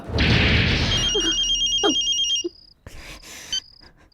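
An electronic telephone ringtone trills in two bursts separated by a short pause, clear and close, with no speech.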